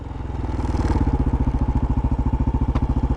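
A Honda TRX 250X ATV idles right after coming to a stop, its single engine thumping in a steady, even lope close by and fairly loud.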